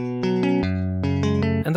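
An electric guitar plays the opening chords of a song, clean arpeggiated picked notes in a steady rhythmic pattern, close and clear, with no talking.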